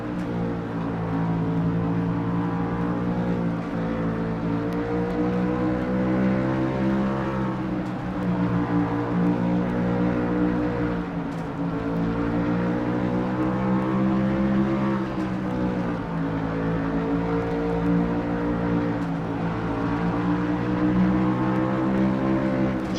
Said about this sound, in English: Just the sounds of Bristol Motor Speedway from inside the car of William Brock as Zachary Fitzwater.